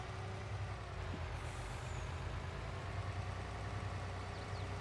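A farm vehicle in Farming Simulator 22 rolls across a field: a steady low engine drone and rumble runs throughout, fairly faint, with no talk.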